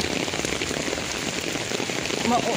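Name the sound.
heavy rain falling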